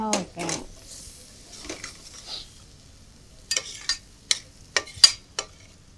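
Fenugreek leaves frying in a pan for methi chicken curry, with soft sizzling and a series of sharp scraping, clattering strokes of a spoon against the pan, close and intermittent.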